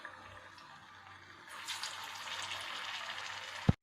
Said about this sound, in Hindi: इस तरह से तेल में घुमाते हुए हम बाखरवाड़ी को फ्राई करेंगे